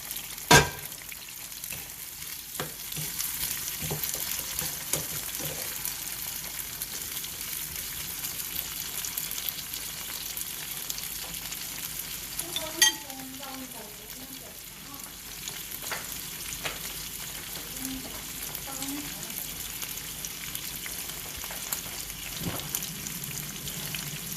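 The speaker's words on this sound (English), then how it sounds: "I'm going to stir fry everything in this saucepan" Crayfish stir-fry in a saucepan with a soft, steady sizzle. A sharp utensil knock comes early, then occasional scrapes and clinks of stirring. The sound is close but fairly quiet.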